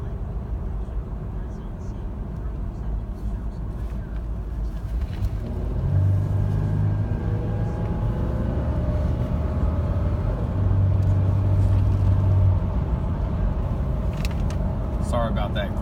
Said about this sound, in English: slow down here and do a heavy acceleration just to show you everything functions